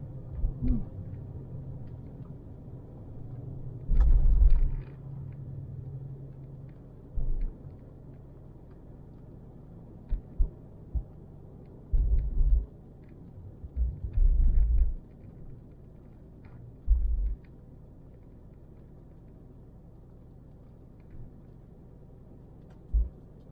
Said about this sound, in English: Let's drive along.